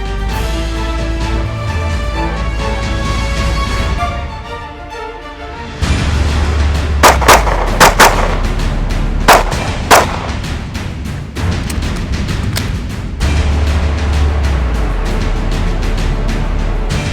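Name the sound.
gunshots fired during shooting range drills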